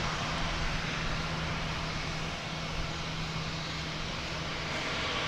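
An Airbus A321 jet airliner at DFW Airport gives a steady, fairly loud engine roar with a broad, even rumble, holding constant without any voices.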